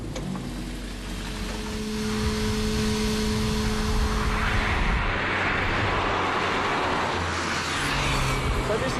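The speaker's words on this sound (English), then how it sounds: "ignition on and just press the starter" A sports car engine starts with a steady idling hum, then swells into a rising roar as the car pulls away and accelerates, with some talking over the engine.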